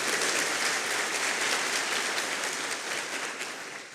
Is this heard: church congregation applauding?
yes